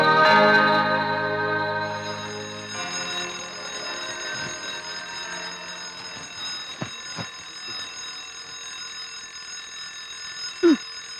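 An alarm clock rings with a steady electronic tone that runs the whole time, loudest at the start, with a few soft knocks and clicks in the background.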